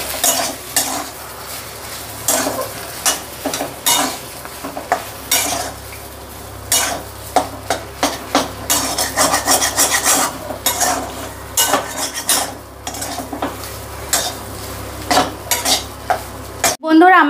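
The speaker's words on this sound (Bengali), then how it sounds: "কুচি করা ধনেপাতা দেওয়ার পর আবার ভালো মতো নেড়ে নেব" Potato filling with chopped coriander is stirred in a pan for vegetarian aloo chop: repeated scraping and spatula scrapes and clinks come in irregular strokes over a faint sizzle, ending with a louder clatter, with no talk.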